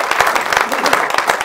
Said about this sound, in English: Can we give him a hand clap of praise tonight?